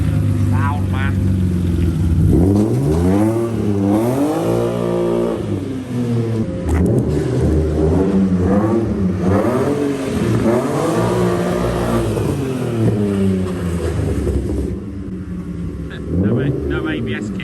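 A BMW E30 with big-block four-pot brakes revs repeatedly while being driven, its engine note climbing and falling in loud, close surges over a rough idle, with people talking now and then.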